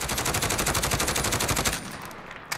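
A SIG SG 550 rifle fires a long full-auto burst in Call of Duty Modern Warfare, with evenly spaced rapid shots close and loud for nearly two seconds. The firing then stops, followed by a faint tail and one brief later click.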